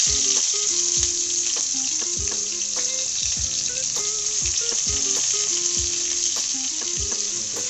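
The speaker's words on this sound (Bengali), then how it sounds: "তেল গরম হয়ে গেলে আমরা এখানে কেটে রাখা কুচি পেঁয়াজগুলো দিয়ে দেব" Chopped onions fry in hot oil in a pot for hilsa fish dopeyaza, a loud steady hiss of sizzling with frequent knocks and scrapes of stirring, close up and without voices.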